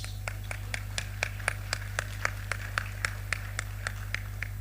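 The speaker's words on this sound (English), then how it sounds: "let's give One Bit Studio and Alena Murang another round of applause" Applause at an evening appreciation dinner for One Bit Studio and Alena Murang, heard as a sparse run of distinct claps at a steady beat, about four or five per second, over a constant low hum.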